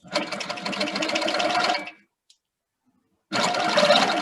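A Handi Quilter Sweet 16 sit-down quilting machine stitches fabric in a fast, steady mechanical run, stops for about a second and a half of silence, then starts stitching again at the same loud, close level.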